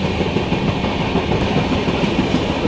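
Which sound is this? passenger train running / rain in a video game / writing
passenger train running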